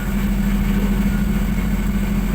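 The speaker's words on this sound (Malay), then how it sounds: "Saya start dulu engine." A Perodua Kembara with a K3 engine runs steadily at idle, a low even hum close by with no voices over it.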